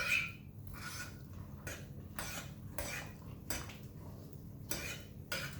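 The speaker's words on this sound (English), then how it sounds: "So we're just going to mix this all up into our potatoes here." A metal spoon scrapes and clinks against a dish while mixing cheese and bacon into baked potatoes for twice-baked potatoes, with about nine rhythmic scraping strokes, close and fairly quiet, and no talking.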